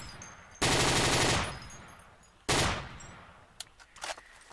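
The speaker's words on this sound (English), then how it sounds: "RPM option is mostly used for the Thompsons, which finally shoot faster than the German SMGs, like the MP40" A Thompson submachine gun in the Forgotten Hope 2 mod for Battlefield 2 fires two loud, rapid automatic bursts, the first longer than the second, each trailing into echoing decay, followed by a few faint clicks.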